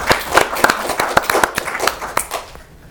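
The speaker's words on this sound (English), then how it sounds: "get a rousing round of applause for their invention" Sparse audience clapping at a talk on open-source AI, a modest round of individual hand claps with distinct sharp hits, fairly close, fading out near the end.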